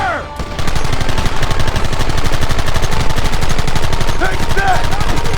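Sustained rapid gunfire from several guns in a Western shootout in the video game Red Dead Redemption, loud and continuous for about five seconds, with voices shouting beneath the volleys.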